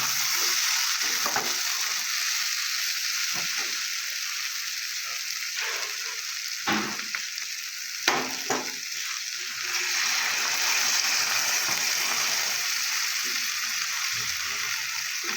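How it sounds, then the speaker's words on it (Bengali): Mixed vegetables fry in a pan with a steady sizzle after water is added, and a utensil stirs and scrapes them now and then, close and continuous for the whole stretch without talking. "এবার আমি জল দিতেছি"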